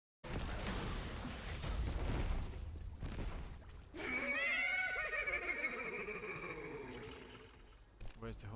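A horse whinnies in the Destiny video game, a long, loud, wavering neigh rising and falling over several seconds after a dense burst of game noise, with faint voices and effects around it.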